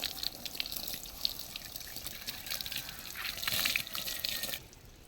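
Water splashing and trickling steadily as a cow is bathed outdoors, warm water poured over it, a continuous wet wash that swells briefly before dropping away near the end.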